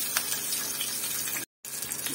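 Water pours steadily into a pot of rice being cooked with cumin in a home kitchen, a continuous splashing gush broken by a short pause.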